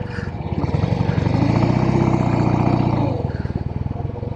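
Vintage Norton Atlas 750 motorcycle pulling away in first gear, a loud close engine note swelling steadily then easing off into a rapid lumpy idle-like throb.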